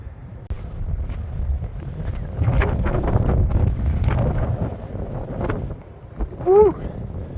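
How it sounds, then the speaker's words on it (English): Strong wind buffets the microphone on an open hilltop meadow, a steady low roaring rush that runs throughout. Near the end a short rising call breaks through briefly. "It is windy up here"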